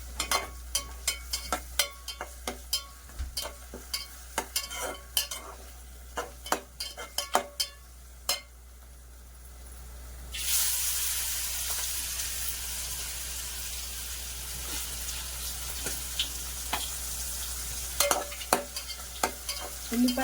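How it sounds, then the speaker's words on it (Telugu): Onions and masala fry in a pan for a fish and raw mango curry, with scraping stir strokes and clinks over the sizzle; the frying hiss swells louder partway through and continues steadily. "ఉల్లిపాయ కొద్దిగా ఫ్రై అవ్వాలండి, పచ్చివాసన పోవాలి మనకి."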